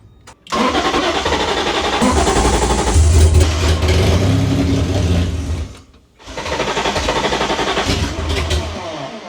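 A BMW E30 M3 fitted with an S54 engine cranks and fires, then runs loud and steady up close, drops out briefly near the end, and catches again to keep running.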